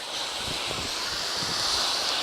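Water from a hose rinsing a car's engine compartment makes a continuous, fairly loud rushing spray that holds steady for the whole moment without pause.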